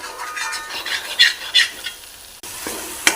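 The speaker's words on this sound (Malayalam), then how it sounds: "പൊടികളെല്ലാം ഇട്ട് യോജിപ്പിച്ച് മിക്സ് ചെയ്തുകൊണ്ടിരിക്കുകയാണ്." Spice powders stirred and fried in hot oil, with a continuous close sizzle broken by scraping strokes of a spoon, a sudden brief drop, then the frying resumes.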